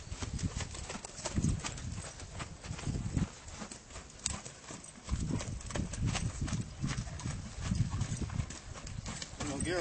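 Horse hooves clip-clopping at a walk under a rider's direction, steady repeated thuds close by, mixed with talk throughout.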